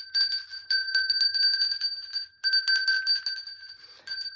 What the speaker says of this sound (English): And you just simply want to bell it like this.